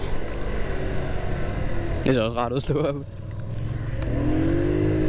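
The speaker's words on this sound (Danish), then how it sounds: "Kommer 2 motorcykler der." Two motorcycles go by outside while someone rides a moped, with loud engine and wind rumble throughout and a brief rising engine whine near the end, partly under a man's speech.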